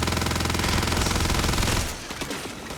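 Rapid automatic gunfire in the space-exploration video game Starfield, a loud dense burst that runs continuously for almost two seconds, then drops to scattered softer impacts and rumble.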